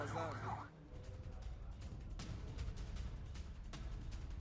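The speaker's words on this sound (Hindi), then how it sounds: "किस तरीके से रास्ते से अब एम्बुलेंस गुजर रही हैं" An ambulance siren wails along a road amid reported strikes near the Pakistan–Afghanistan border, a rising-and-falling tone early on that fades into steady traffic and crowd rumble.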